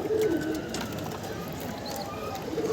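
Pigeons in a pigeon loft giving a few soft, low coos close by against quiet background noise, with brief faint chirps in between.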